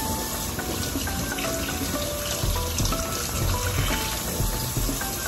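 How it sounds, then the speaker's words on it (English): Tap water running steadily into a sink while strawberries are washed, a continuous close splashing gush with faint clinks underneath, no talking. "So you're gonna wash the strawberries."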